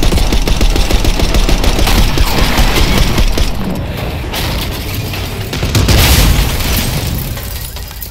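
Call of Duty: Black Ops 6 campaign firefight on a street as a limo approaches, with loud sustained automatic gunfire in rapid bursts, heavy booms and mechanical clatter, swelling again near the end.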